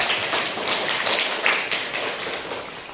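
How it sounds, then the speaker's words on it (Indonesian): A small classroom group of eleventh-grade students at a group discussion session claps together, producing a dense, steady patter of hand claps that stays fairly even for a few seconds. "tepuk tangan sekali lagi untuk materi kita"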